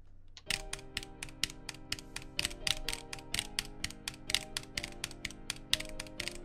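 Fast, evenly spaced clicks of a computer keyboard during Etterna rhythm-game play, crisp close taps repeating in a quick steady pattern over faint game music.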